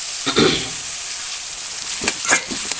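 Onions, green chillies and curry leaves sautéing in a pan for thattukada-style kothu parotta: a loud, steady close sizzle with a few clattering stirs of a spatula.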